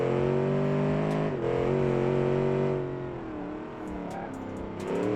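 A rear-wheel-drive stock car with a sequential gearbox in a racing video game: a steady, loud engine drone rises in pitch as it accelerates, dips briefly between gears, then climbs again with no voices over it.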